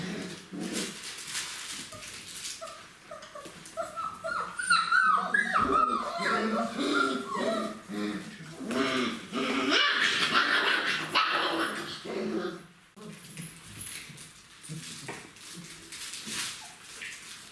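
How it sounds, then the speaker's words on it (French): 29-day-old puppies whimpering, yipping and growling in scattered bursts, fairly close, with soft squeals rising and falling over a quiet background. "Dans les interactions, on commence à avoir de plus en plus de grognements."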